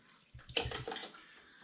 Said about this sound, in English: So I'm just adding into my Pilsen malt some water, it's spring water.